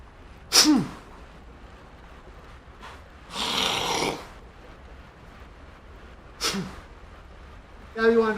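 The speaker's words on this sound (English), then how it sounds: "I'm definitely sneezing a bunch." A person with allergies sneezes several times in a quiet indoor setting, sharp isolated bursts spaced a few seconds apart, with a softer breathy snort in between.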